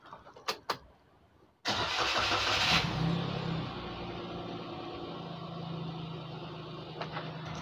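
Daihatsu Ayla engine, fitted with a Granmax map, cranks with a couple of short clicks, then catches with a loud burst that settles into a steady, close idle.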